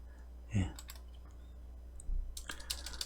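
Keys are pressed on a computer keyboard for a Control-slash comment shortcut in Android Studio: a few sharp, close clicks spaced apart over a low hum, with a brief burst of tapping near the end.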